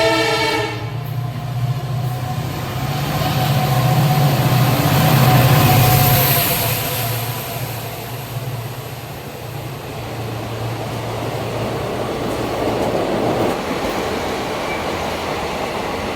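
A Lonavala-bound local commuter train rumbles steadily nearby at Pimpri station, its horn sounding in long tones early on before fading into the continuous roar of the carriages.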